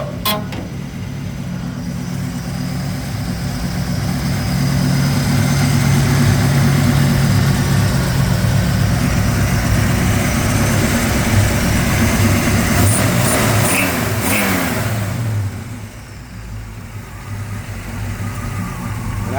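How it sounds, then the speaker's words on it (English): A 1957 Chevrolet 3100 pickup engine rumbles loudly and steadily at idle, its deep exhaust note swelling as it revs, then settling lower near the end. "Wonderful sounding exhaust."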